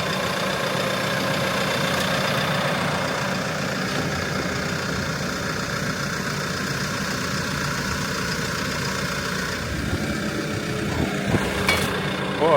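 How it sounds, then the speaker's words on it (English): A tractor engine idles steadily and loudly nearby while moving concrete blocks, a constant low rumble throughout with a few light knocks and clatters near the end. "What a beautiful tractor."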